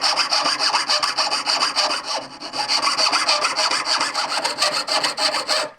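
A hand saw blade cuts through wood in quick, regular back-and-forth strokes with a rasping, scratchy tone, close and loud, pausing briefly once partway through.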